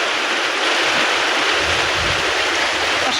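Heavy monsoon downpour in a Bangladeshi village, with water pooling on a veranda: a dense, steady roar of pouring rain, close and continuous with no gaps and no voices.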